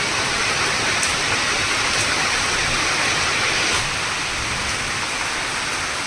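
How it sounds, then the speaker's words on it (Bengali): Heavy rain pours down steadily in a dense, even hiss, close and loud throughout with no voices. "বৃষ্টি হচ্ছে ভালো মতন বৃষ্টি হচ্ছে"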